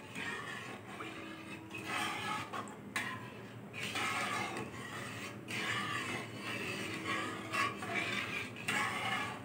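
A spoon stirs half a litre of warming milk in a pot, making steady repeated scraping and swishing strokes with short pauses, close and alone without talk.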